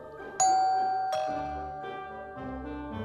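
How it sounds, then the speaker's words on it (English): A doorbell chimes two tones, bright and clear, with the second note fading slowly into quiet background music. "then rang the doorbell"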